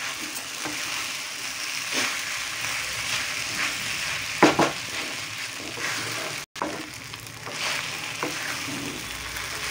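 Sago upma, soaked sabudana with rock salt, sizzles and frys in a pan while being stirred, a continuous close crackle with scraping strokes of the spoon and a brief dropout partway through.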